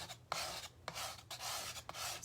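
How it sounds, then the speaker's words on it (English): Old paste being scraped off by hand, close rhythmic rasping strokes, about five scrapes in two seconds, each with a small knock at the start, no talking. "So what I'm doing is I'm just scraping off all this old paste"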